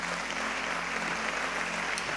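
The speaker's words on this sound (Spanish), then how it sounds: "Dale el aplauso al Rey." Congregation applauding during a church sermon: soft, steady clapping from a crowd, fairly distant and low in level, without speech over it.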